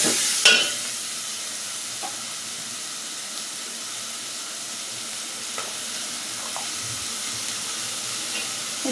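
Onion frying in hot oil with salt, ginger and garlic, a steady close sizzle under occasional stirring scrapes and light clinks, with no talking.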